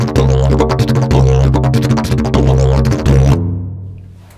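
Didgeridoo playing a condensed drone, a loud, steady low hum with rhythmic pulses in the overtones, heard up close and alone before fading out at the end.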